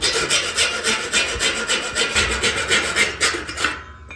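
A hacksaw cuts through part of a heavy-duty metal shelf, rasping in quick, even back-and-forth strokes about three to four per second, loud and close, then stopping abruptly.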